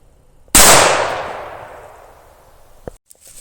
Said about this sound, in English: He's going to be shooting the 357 Magnum.